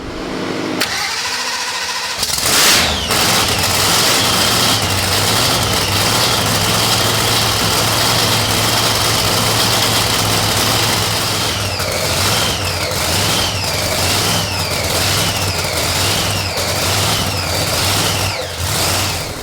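New EFI screw-blower engine on a car called Jackyll starting with a brief crank, then catching into a loud, rough, steady run with repeated small revs as it settles toward idle, close with no talk.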